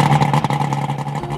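A loud outboard boat engine running out of water idles and revs steadily, with a droning hum and rattling clatter, close up and continuous.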